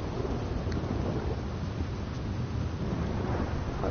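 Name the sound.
thunder in the video game Red Dead Redemption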